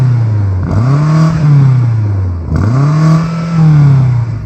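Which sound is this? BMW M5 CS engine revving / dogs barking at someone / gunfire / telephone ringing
BMW M5 CS engine revving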